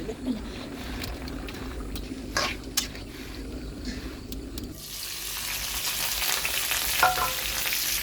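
Potatoes with chopped green chillies and onion frying in oil, a steady sizzle with occasional stirring clicks, growing louder and brighter in the second half.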